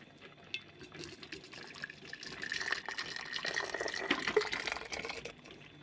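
Thick boiled pumpkin jam being poured into jars in a home kitchen, a soft liquid pouring and dripping with light clinks of glass, growing fuller midway and fading out near the end.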